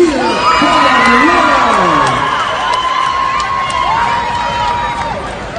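A crowd at a cheerleading competition awards ceremony cheers and whoops loudly and continuously as a girls' cheer team is announced in third place, with high children's shrieks running through the roar.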